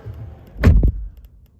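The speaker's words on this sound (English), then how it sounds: "And let's close the doors." A single solid car door thud on a 2022 VW Taigo R-Line, close by, with a short muffled rumble after it.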